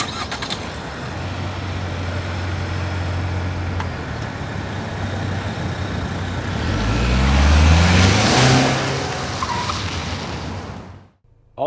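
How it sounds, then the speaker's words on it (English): A 2025 Ford Maverick Lobo AWD truck drives on the road, its engine note steady and close, then climbing to a loud surging pass around the middle before easing off, with no talking. "So now let's take this guy for a spin and see how it drives."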